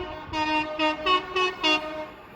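A train on the West Coast Main Line at Cheddington sounds its two-tone horn in four short, clear blasts, moderately loud over faint background noise.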